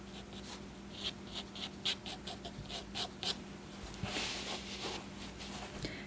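A pen inking a botanical flower drawing on paper: soft, faint scratching strokes in a quick irregular series, close up and quiet, with a slightly longer rubbing stroke toward the end.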